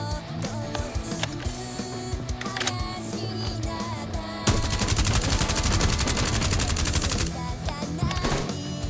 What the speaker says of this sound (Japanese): とりあえず、何かに向かって撃ってみてくれないか。